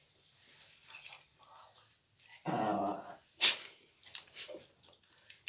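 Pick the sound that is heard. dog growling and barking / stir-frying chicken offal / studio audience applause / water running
dog growling and barking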